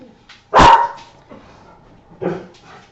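Dogs bark at people walking past, one loud sharp bark burst up close followed by a second, softer bark a moment later, with quiet gaps around them.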